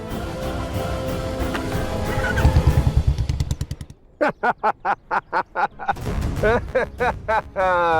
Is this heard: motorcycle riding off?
yes